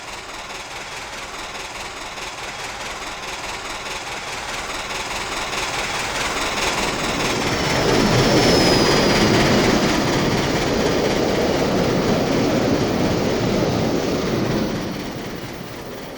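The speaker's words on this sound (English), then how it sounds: "the train thunders across the Wisconsin River and past the station." Milwaukee Road A-Class Hiawatha steam train in the Trainz simulator game, running at speed across a river bridge past a station, a steady rushing rumble with faint rail clatter that swells louder midway, then eases off.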